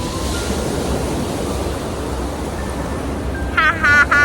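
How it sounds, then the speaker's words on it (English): Waves wash onto a small beach at Catalan Bay, Gibraltar, as a constant broad roar of surf close by, with a few brief high tones near the end. "This is a small beach decorated with creamy colored houses."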